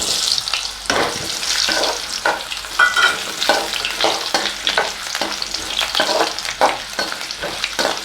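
Potato and onion sautéing in a pan for a potato capsicum gravy, loud close sizzling broken by repeated rhythmic scraping strokes of a stirring spoon, with no voices.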